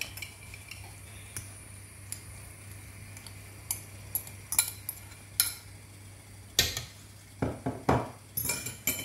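A spoon clinks and scrapes against a pot while corned beef is stirred into jollof rice, giving sparse metallic taps that grow busier toward the end, faint and close with no talking.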